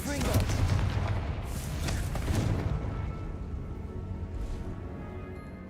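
Confringo fire spell bursting in Hogwarts Legacy, a loud booming blast with crackling rumble that swells at the start and slowly decays into a lingering tail, with game ambience underneath.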